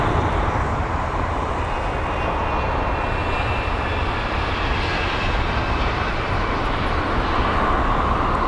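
A 24-year-old Loganair airliner arrives at London Heathrow, its engines giving a steady, broad jet roar that holds at a constant level for the whole stretch.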